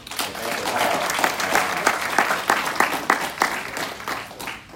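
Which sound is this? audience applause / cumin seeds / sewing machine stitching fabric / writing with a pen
audience applause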